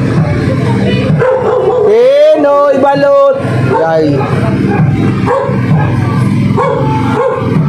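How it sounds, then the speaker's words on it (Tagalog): A large dog barks and yelps in a quick run of loud, close calls while people talk and shout around it. "Laki ng aso yan."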